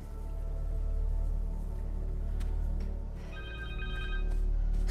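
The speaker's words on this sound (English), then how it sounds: "Phone! Connor's cell phone." A cell phone ringtone rings in Marvel's Spider-Man 2 during a tense story scene, a steady repeating electronic trill rising clearly over a low droning musical backdrop.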